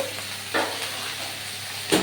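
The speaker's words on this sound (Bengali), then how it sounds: "গাজরগুলো সুন্দর করে আমি ভেজে নেব" Thin strips of carrot sizzle steadily as they fry in a pan. A few louder stirring scrapes break up the sizzle, heard close, with no talking.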